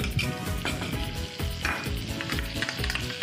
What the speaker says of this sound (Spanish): Ya tenemos un poquito de tocineta, vamos a colocar mantequilla